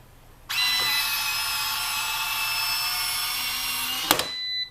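Power sander smoothing the sharp edge of a metal license plate flipper bracket: one steady, loud, high whine starts abruptly, holds for about three and a half seconds and cuts off, close up with no talk.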